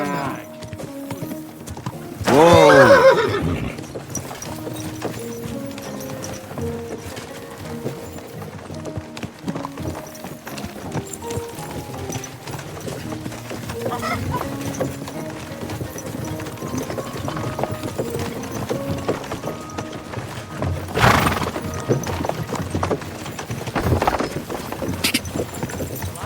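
A horse's hooves clip-clop steadily through the ride in Kingdom Come: Deliverance 2, with a loud snort or whinny early on and bursts of other noise later, under game ambience with no talk.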